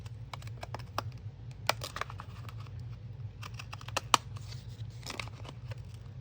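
Scissors cutting paper to make a seed packet pocket, close and quiet, with irregular crisp snips and rustles over a low steady hum.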